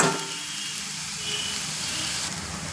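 Onions sizzling in sesame oil in a pan, a steady close hiss with faint crackle holding evenly throughout, no voices.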